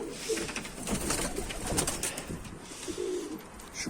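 Soft pigeon coos repeat a few times amid a busy, noisy background of many birds in Mardin, Turkey, fairly faint and close by.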